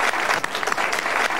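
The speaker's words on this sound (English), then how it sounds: "I hope you're not clapping for the fat." Studio audience applause during a 2001 Ronco Showtime Rotisserie infomercial demonstration. The clapping is dense, loud and continuous across the whole moment.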